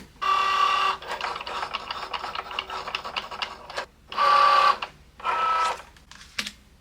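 A Cricut cutting machine drives its blade to cut out words, a near whirring and buzzing in several bursts with short pauses and clicking carriage moves between them.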